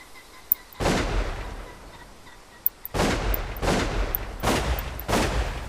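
Several loud shotgun blasts at clay targets in a VR hunting and sport-shooting simulator, one near 0.8 s, then four in quick succession from about 3 s, each a sharp crack with a broad lingering boom, faint background clicks between.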